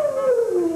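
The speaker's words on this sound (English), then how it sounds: "It sounds like a dog or something." A single short dog howl, close and clear, sliding slowly downward in pitch.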